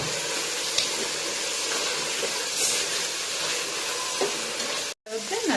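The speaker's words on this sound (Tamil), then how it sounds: "தக்காளியையும் நல்லா வதக்கி விட்டுறலாம்." Tomatoes sauté in a hot pan for mutton biryani, a steady close sizzle and hiss with scraping stirs, briefly cutting out near the end before the frying resumes.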